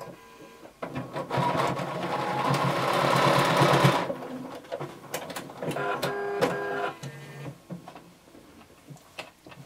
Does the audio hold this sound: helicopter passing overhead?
no